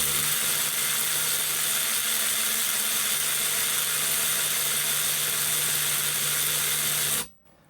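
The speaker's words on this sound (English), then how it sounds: "We could take a look at what RPM the tool is spinning at." An Adotocam brushless 3/8-inch variable-speed ratchet wrench with a 7/8 socket spins freely, giving a loud, steady, high-pitched motor whine that holds for about seven seconds and then cuts off abruptly.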